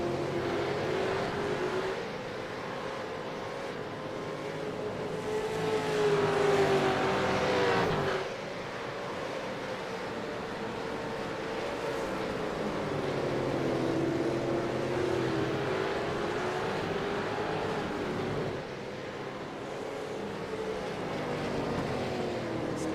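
V8 race cars at Road America heard from onboard, a steady loud engine drone that rises and falls with shifts and corners, continuous through the lap with no talk.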